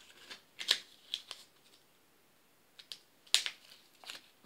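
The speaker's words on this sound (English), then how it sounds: "Let me see if those scissors works." Scissors cut open plastic packaging from a dollar store haul, a few quiet, sharp snips and crinkles spaced irregularly against near silence.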